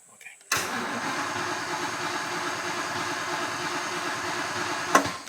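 The engine of a 1940 vehicle without an accelerator pump cranks steadily and struggles to catch for several seconds, ending in a brief sharp sputter.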